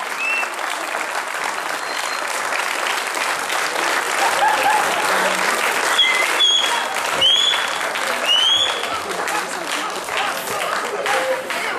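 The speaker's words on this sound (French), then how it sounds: "Donc encore un petit peu d'applaudissements pour eux, ils l'ont bien mérité." An audience at a solidarity couscous community event applauds performers with sustained, loud, dense clapping, scattered whistles and cheers rising over it.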